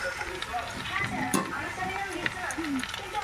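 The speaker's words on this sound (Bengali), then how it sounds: "ভালোভাবে এটাকে ভেজে নিতে হবে" Potato and pea filling for masala dosa sizzles and fries in a pan while being stirred, with a steady crackle and scraping strokes throughout and a few brief clinks.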